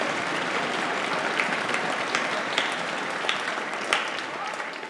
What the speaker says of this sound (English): So a round of applause for our sectional coaches.